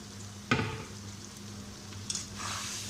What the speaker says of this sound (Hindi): इसको अच्छी तरह मिक्स किया। चम्मच हमने लाते जाना है ताकि ये नीचे से जल न जाए।